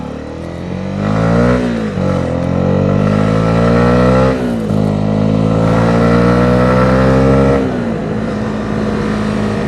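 A 2021 Honda CB125R motorcycle being ridden, its engine loud and close, repeatedly revving up through the gears with rising pitch and dipping at each shift, steady wind-buffeted drone throughout.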